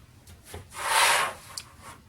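A single soft swish of a rotary blade or cut through a tube of quilting fabric for 2.5 inch strips, quiet and close, with faint taps before and after.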